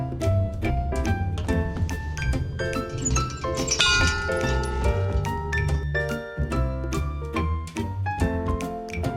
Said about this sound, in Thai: อันนี้ก็คือเป็นระฆังนะคะที่หันหน้าออกสู่ทะเล เราสามารถไปสั่นละครังได้ค่ะ